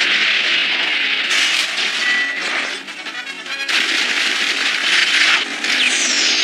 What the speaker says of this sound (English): Fire anti-sub rockets.